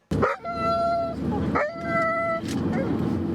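A frightened dog, carried along as a family evacuates, lets out two drawn-out whining yelps close by. Each yelp starts sharply and then trails off, and a faint rumbling background sits underneath.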